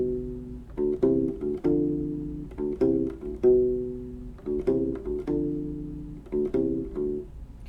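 Electric U-Bass works through a jazz bass line with added horn-style harmony notes, plucked two-note chords sounding in a steady repeating rhythm, close and moderately loud with no talking.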